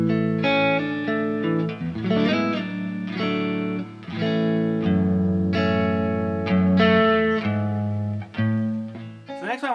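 An electric guitar plays distorted chords, picked softly so the gain stays lighter. The chords ring clear and sustained over nearly ten seconds, with no talking over them.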